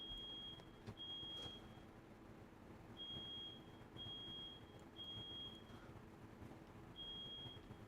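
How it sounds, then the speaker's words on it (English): A distant fire alarm beeps in short, evenly spaced high pitched chirps, faint over a steady indoor hum. "There is a fire alarm going off somewhere"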